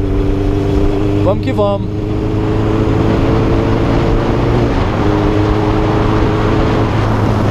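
Honda Hornet motorcycle engine at high rpm on a racetrack, a loud steady buzzing drone with strong low harmonics that holds nearly constant throughout, with a voice briefly speaking over it.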